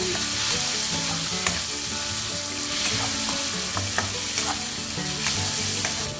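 Tomatoes go into browned onion and garlic frying in a pan for pakbet with canned tuna, giving a loud, dense sizzle with clattering stirs and scrapes throughout.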